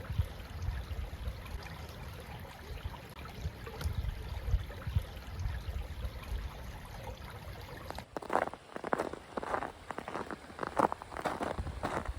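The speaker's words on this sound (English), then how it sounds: "The sound of the running water through the low-lying portions of the forest is accompanying me on this section of the walk." Running water flowing through low-lying ground in a late-winter forest, a steady close trickling wash throughout, with a few brief brighter splashy bursts near the end.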